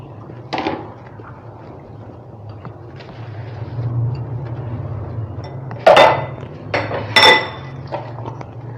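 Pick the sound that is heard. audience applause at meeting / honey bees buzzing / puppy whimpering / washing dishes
washing dishes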